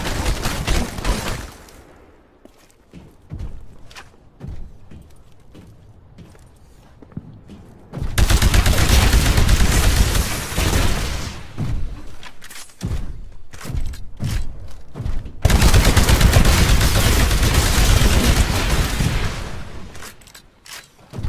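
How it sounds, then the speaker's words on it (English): An anti-Titan weapon fires in the Titanfall video game, booming shots with a thud, then two long, loud stretches of heavy rapid gunfire and blasts, separated by quieter mechanical clatter. "Destroy the Titan with your anti-Titan weapon."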